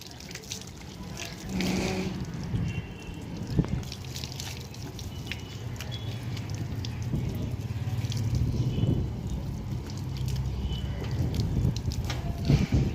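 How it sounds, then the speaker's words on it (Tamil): Water splashes and trickles irregularly, close by, as buckets are poured over a Rajapalayam dog during a bath, with scattered drips and sloshing against a steady background noise. "தண்ணி ஊற்ற"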